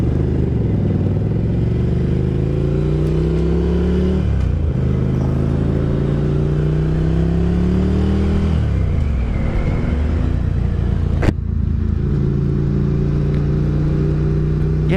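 A Ducati Scrambler motorcycle rides close and loud, its engine climbing through the gears in rising revs, easing off and pulling again, with a short clatter near the end and no talking.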